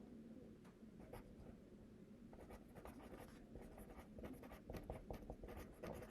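Pen scratching on paper while working an algebra problem, close and faint, with soft strokes and taps in irregular bursts and no talk.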